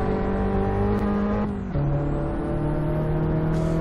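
A race car in Assetto Corsa lapping the Vallelunga circuit, its engine holding a steady, sustained tone with a brief dip and shift partway through, like a gear change, then carrying on loud and close.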